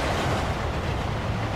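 A train rumbles steadily past in the video game Quantum of Solace, loud and close, with a dense low roar and faint rhythmic clatter of wheels.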